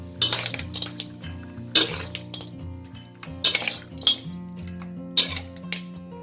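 Tender pork bones are scooped from a pot into a bowl with a ladle, making four or five sharp metallic clinks and scrapes spaced about a second apart over a soft background.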